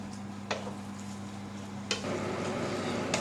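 Bolognese sauce simmering on high heat, a steady close bubbling sizzle with a low hum beneath and a few soft taps of a spoon stirring.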